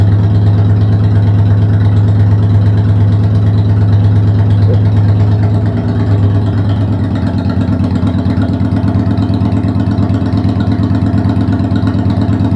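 A Honda Steed 400 bobber motorcycle engine idles steadily and loud up close, its low throbbing rumble constant for the whole stretch with a slight shift in tone midway.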